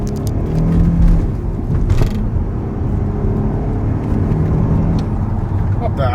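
A Cadillac STS with a GM automatic transmission accelerates hard, its engine roaring loudly and steadily from close inside the car, with broadband road and wind noise throughout.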